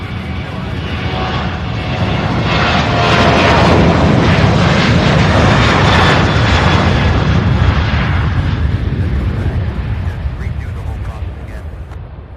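A UPS cargo plane bound for Oakland taking off at Louisville airport, a loud broad jet roar that swells toward the middle and slowly eases off, heard alone without talk.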